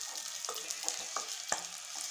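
Small shallots and fenugreek seeds fry in sesame oil in a clay pot, giving a steady close sizzle broken by several sharp pops and crackles, with no voices.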